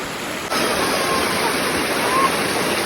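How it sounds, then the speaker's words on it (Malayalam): Steady rushing water of a small stream cascading over rocks near a house, close and continuous, with no other sounds standing out. "ഇവിടെ ഇങ്ങനെ വെള്ളം ചാടുന്ന സൗണ്ട് ആട്ടോ കേക്ക്"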